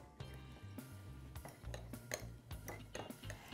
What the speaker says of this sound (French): Et on va mélanger ça tout doucement.